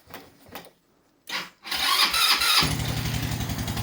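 A scooter engine is started in frost around minus ten degrees: a couple of cranking bursts, then it catches and settles into a fast, buzzy, loud two-stroke idle up close.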